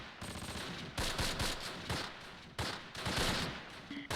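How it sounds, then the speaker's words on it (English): Gunfire in the war game Close Combat Last Stand Arnhem: repeated machine-gun bursts and single shots crackle in uneven clusters, loud and dense, with brief gaps between volleys. "I know you're getting shot at, and that's why you keep ducking."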